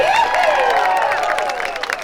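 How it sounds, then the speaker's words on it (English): Audience applause at a Knott's Berry Farm time capsule ceremony, a steady two-second wash of clapping and crowd cheering with whoops rising through it, held at an even level throughout. "Give yourselves a round of applause."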